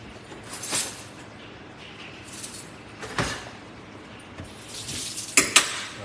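Rice gets stirred in a pot of boiling water, with soft spoon scrapes and clinks against the pot over a low bubbling hiss, fairly quiet and intermittent.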